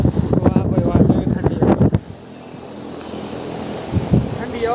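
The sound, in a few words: large air cooler blowing strong cold air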